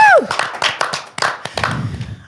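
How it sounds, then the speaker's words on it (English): A small audience claps at a live business awards showcase with scattered, distinct claps and a cheer at the start. Claps repeat in an uneven rhythm as the clapping thins out. "Round of applause for John"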